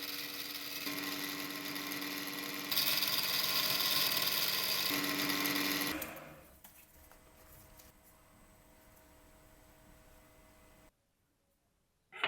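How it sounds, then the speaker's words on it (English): A steady, loud mechanical whir of a metal part being machined flat on each end, shifting pitch partway, then dropping to a quieter hum before cutting out. "Additionally, we machine a flat surface on each end."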